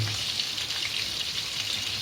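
Meatballs fry in a crowded frying pan, giving a steady, close, bright sizzle with fine spattering crackle and no voices.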